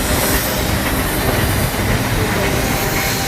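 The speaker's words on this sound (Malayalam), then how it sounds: "നീലഗിരി മൗണ്ടൻ റെയിൽവേയിലുള്ള യാത്രയാണ് നിങ്ങളുമായി പങ്കുവെക്കുന്നത്" A Nilgiri Mountain Railway train runs on the hill line between Coonoor and Mettupalayam, giving a steady, loud rumble of wheels and carriages with a hissing wash throughout and no clear pauses.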